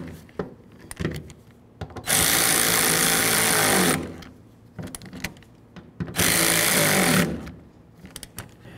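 A power tool runs in two sustained, loud bursts as it tightens the tailgate handle mounting bolts on a Chevy S-10 pickup, with close clicks and handling knocks between the bursts.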